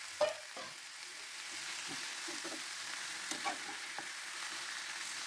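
Half a kilo of chicken frying in a pan for a dry pepper fry, a steady soft sizzle with scattered scrapes and clinks of stirring, no voices.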